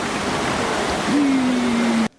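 Indoor waterfall in a Singapore mall pours steadily into a giant bowl, a continuous broad rushing wash of falling water with a faint sustained tone rising partway through before the sound cuts off abruptly.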